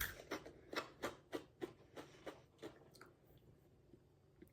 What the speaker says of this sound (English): let's taste test a garlic chip.